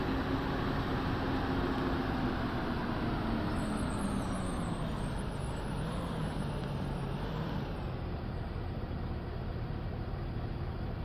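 A bus driving in a video game, a steady engine drone and road hum with a slowly falling tonal whine, continuous and fairly loud with no speech.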